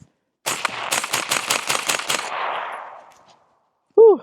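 A CMMG rifle chambered in 5.56 fires a rapid string of about eight sharp, loud shots at close range, with echoing decay afterward, then a brief voice right at the end.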